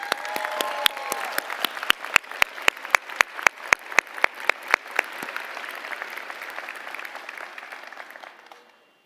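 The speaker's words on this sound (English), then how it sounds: "If you can give him a round of applause" An honors convocation audience applauds a professor, dense clapping with a few loud, sharp individual claps near the front beating a regular rhythm, tapering off and dying away toward the end.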